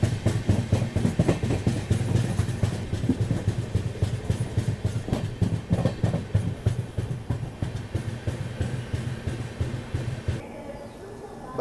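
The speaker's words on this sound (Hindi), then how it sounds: "इसी बीच हमारी ट्रेन पहुँच रही है नाडियाड जंक्शन रेलवे स्टेशन" A double-decker express train rolls into Nadiad Junction station, its rumbling engine and rhythmic wheel clatter loud and close, easing off and quieting near the end.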